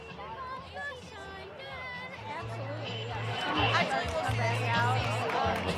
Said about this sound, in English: the noise of the crowd